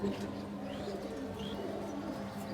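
Pigeons released from a loft coo in soft, low repeated calls close by, with faint chirps and light background noise.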